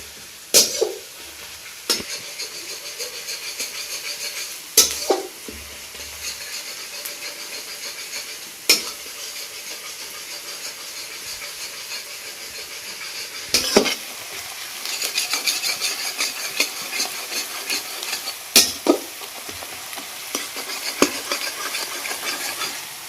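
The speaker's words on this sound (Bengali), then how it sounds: "পেঁয়াজটা একটু ভাজা হয়ে গেছে।" Onions frying in a pan for a village-style desi chicken curry, a steady sizzle broken by several sharp metallic clanks and scrapes of a spoon against the pan, no talking.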